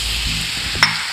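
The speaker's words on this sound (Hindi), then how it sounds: "और इनको हमने अच्छे से स्टर कर लिया" Leftover rice with colorful vegetables stirred in a pan, a soft sizzling hiss under brief scraping, with one sharp clink near the end, close and quiet.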